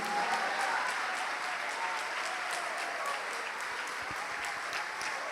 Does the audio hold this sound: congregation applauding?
yes